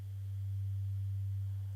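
A steady, pure sine tone from voltage-controlled oscillator VCO 1 on a modular synthesizer, held at one low pitch and constant loudness throughout, alone with no other sounds.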